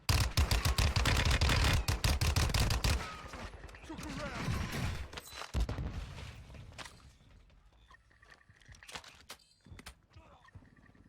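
Rapid bursts of video game gunfire crackle loudly for the first few seconds, then thin out into scattered shots and softer in-game effects as the action quiets.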